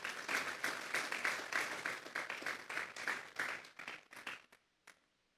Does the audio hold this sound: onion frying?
no